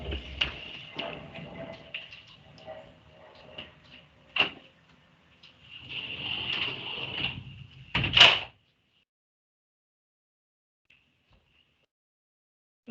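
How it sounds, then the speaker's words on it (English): A door is handled indoors with scattered rattles and bumps, then shuts firmly with a sharp thud about two-thirds of the way through. Near silence follows. "I have to close the door."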